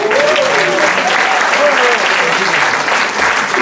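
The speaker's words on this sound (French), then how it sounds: "Oui, on peut applaudir." Audience at a burlesque show applauding, a steady burst of clapping throughout with a voice speaking over it early on.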